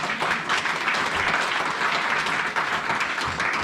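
Congregation applauding during a church service, a steady wash of clapping from many hands filling the room, continuous and fairly loud with no pauses.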